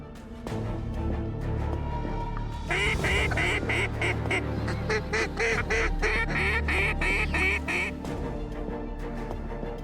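Ducks quacking in a New Zealand hunting setting: a loud, dense chorus of repeated quacks and calls, steady at first and then building into rapid, overlapping bursts, with no talk.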